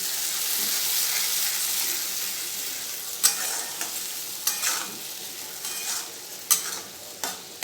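A paste of onion, ginger, garlic, green chilli and ground spices hisses steadily in a pan for chicken curry, and a spoon later strikes and scrapes the pan in repeated knocks over the close, continuous sizzle.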